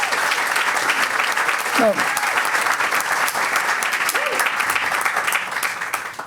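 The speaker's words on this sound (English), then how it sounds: "You should have said no applause, but you had to applaud." Audience applause at a debate on whether libertarians should vote for Trump, a dense continuous clapping from a crowd in a hall, loud and sustained throughout, with a brief spoken word breaking through near the middle.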